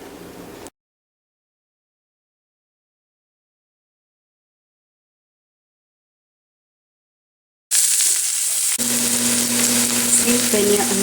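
Onions fry in olive oil, a dense steady sizzle heard briefly at the start, then a long silence, then the loud frying returns with stirring.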